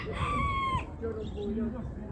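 A rooster crows once at close range at a Ganja poultry and bird market, a loud, clear call followed by softer clucking and faint background murmur.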